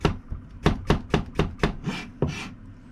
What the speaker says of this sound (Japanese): こういうふうに薄く切ることもあります